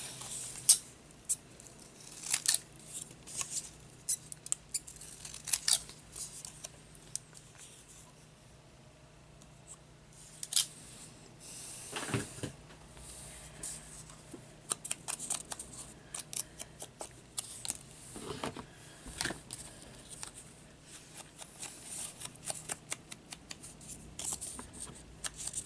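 Scissors snip through a card in quick, irregular cuts, close and fairly quiet, with soft paper rustling and handling noises between the snips.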